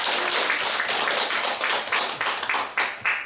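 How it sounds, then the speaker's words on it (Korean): An audience in a third-floor lecture room applauds to welcome a guest lecturer, a short round of close, crisp hand claps that thins toward the end, with individual claps standing out. "박수로 맞이해 주십시오."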